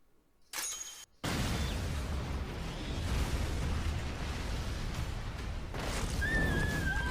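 Thunder Spear explosion in an Attack on Titan anime episode, a sudden loud roaring blast after a brief silence, rumbling on for several seconds with a high whistling tone near the end.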